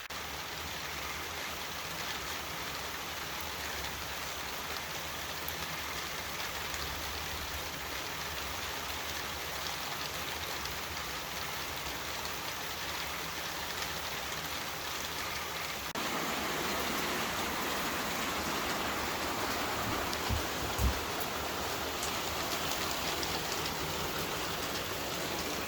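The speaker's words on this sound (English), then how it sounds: "I'm going to go ahead and get out of this rain, though." Rain pours steadily over a garden where watermelons grow, a dense even hiss of drops on surfaces that thickens slightly partway through, with a couple of faint knocks and no talking.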